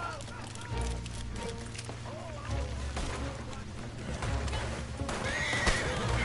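A horse in Red Dead Redemption Online neighs and whinnies loudly, with hoof clip-clop and game ambience around it, while someone talks over the sounds.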